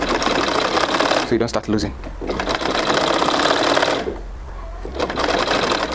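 A sewing machine stitches a trouser pocket in loud, fast whirring runs, with two brief pauses as a person speaks close by.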